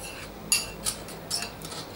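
A spoon stirs a mixture in a bowl, clinking against the sides in three or four light, evenly spaced taps over a soft background.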